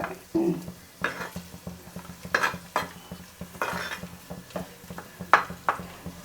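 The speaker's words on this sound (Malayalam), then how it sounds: "നമ്മളൊന്ന് വഴറ്റിയെടുത്തിട്ടുണ്ട് ഉള്ളി ഇത്തിരി കറിവേപ്പില" Onions sautéed with curry leaves in a clay pot, rhythmic scraping stirs with spoon clinks against the pot over a low, steady frying hiss, close and alone.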